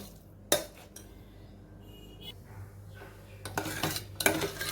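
A spoon scrapes and clinks against a thick metal pressure cooker as sweet lentil filling with jaggery and sugar is stirred, with sharp taps at the start and a busier clatter near the end.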